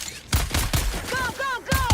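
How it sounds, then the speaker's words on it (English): Several sharp bursts of gunfire from a squad firing through a hatch in the video game Dune: Awakening, loud and close, with a short gap between shots. Shouted voices and radio-style callouts overlap the shooting. "On 3, you're gonna put a full burst through the hatch."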